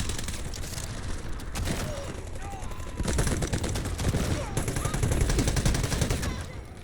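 Rapid shotgun blasts from an M1014 semi-automatic in the shooter game Delta Force, a steady run of loud close shots with a brief lull near the start, layered under busy game noise.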